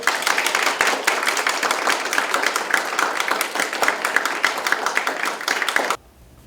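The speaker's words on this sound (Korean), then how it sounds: "박수 부탁드리겠습니다." Sustained, loud applause fills the hall at a public-institution agreement signing ceremony for the Daegu-Gyeongbuk new airport construction and former-site development, dense clapping for about six seconds before cutting off abruptly.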